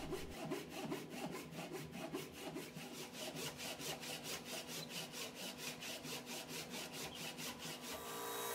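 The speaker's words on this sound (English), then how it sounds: "Now that the excess wood has been cut off" A hand saw cuts excess wood off a handmade fishing swimbait in steady back-and-forth strokes, rhythmic and close, speeding up slightly toward the end.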